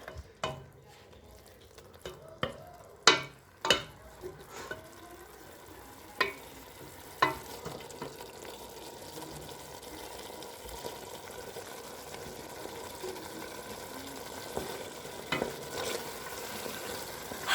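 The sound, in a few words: vegetables and noodles frying and being stirred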